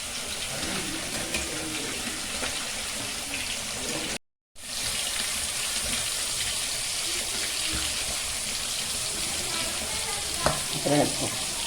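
Garlic, onion, curry leaves, green chilli and pepper sautéing in a pan: a steady, moderately faint sizzle and crackle runs throughout with occasional stirring clatter, broken by a brief cut to silence.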